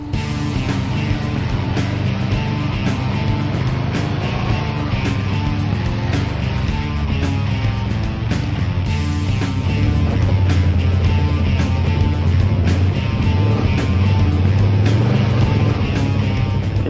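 A 2014 Can-Am Outlander 1000 Max Limited ATV engine drones loud and steady as it climbs with its wheels slipping, rising slightly in pitch and intensity toward the end, with no voices.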